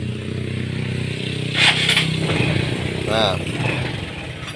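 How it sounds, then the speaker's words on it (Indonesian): Honda Supra X 125 motorcycle after a starter coil replacement, its engine running at a steady, close idle with a few brief mechanical whirs and scrapes, while someone says a word over it. "Sekarang kita tinggal cek, kita pencet tombol starternya."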